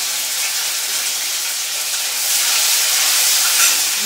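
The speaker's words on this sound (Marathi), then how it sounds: "आपण टाकूया मिरच्या, कोथिंबीर जराशी फोडणीला." Green chillies and coriander hit hot oil for tempering, giving a loud, steady sizzling hiss that swells slightly partway through, with no talking.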